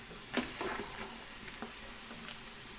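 Boiled chicken pieces fry in hot oil for a homemade chicken pickle, giving a soft, steady sizzle with scattered faint crackles and pops close by.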